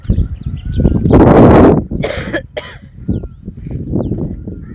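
A loud, harsh cough from a man with a cold bursts close by, followed by a couple of shorter rasping coughs and breathy throat sounds.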